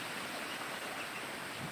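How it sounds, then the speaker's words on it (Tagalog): River water flowing on a backyard farm, a soft steady rushing wash heard faintly and evenly throughout, with no voices. "tubig na nanggagaling sa ilog yan."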